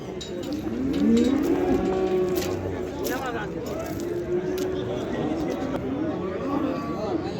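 Cattle moo loudly nearby at a livestock market, several long lowing calls overlapping, with people talking around them outdoors.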